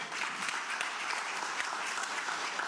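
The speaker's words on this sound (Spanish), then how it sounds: "Dele palmas al Señor, hermano." A church congregation applauding together, dense steady clapping from many hands filling the room at moderate level.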